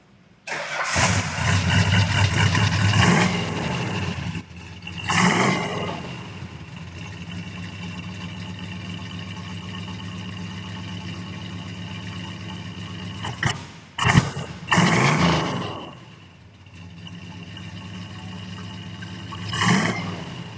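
A classic car with a pistol-grip 4-speed cranks and fires up close, then settles into a loud, steady idle broken by several sharp throttle blips and revs, with no talking over it.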